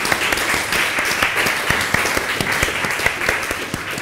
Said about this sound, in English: warm applause for everyone.